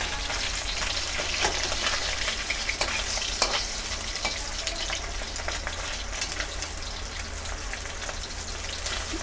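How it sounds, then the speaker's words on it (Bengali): Large pabda fish fry in oil in a wok, filling the clip with a dense, continuous crackle and spatter at close range and no talking. "এই দেখো আমি এইভাবে সব মাছগুলোকে ভেজে তুলে নিচ্ছি।"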